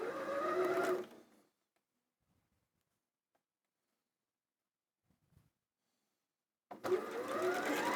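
Short bursts of rapid stitching from a Janome Experience 560 sewing machine chain piecing fabric. One burst comes first, then a long near-silent pause with faint clicks, then a second burst.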